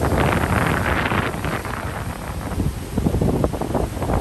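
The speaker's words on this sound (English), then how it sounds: "I know it's really windy." Strong wind buffets the microphone continuously at the beach, a loud roaring rumble with surf churning underneath, gusting harder near the end.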